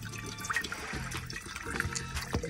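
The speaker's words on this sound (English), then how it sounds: "Get some water in here." Water pours into a Brim coffee maker inside a minivan camper, a steady close splashing and trickling that runs for a couple of seconds with a few small knocks.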